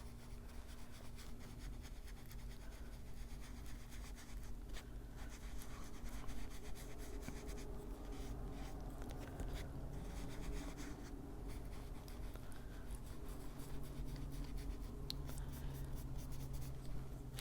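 Colored pencil rubbing steadily across paper while blending milled lavender shades, a continuous soft scratchy graphite-like texture held close and fairly quiet throughout.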